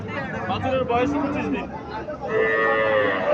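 A young Sahiwal calf at a cattle market lows in two drawn-out moos, the second louder, over a steady background of crowd chatter and people talking nearby.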